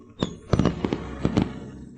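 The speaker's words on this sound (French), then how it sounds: "Qui peut bien tirer des feux d'artifice?" Fireworks set off for a birthday celebration, a quick series of sharp pops and crackling bursts, several close together, loud and near with no talking over them.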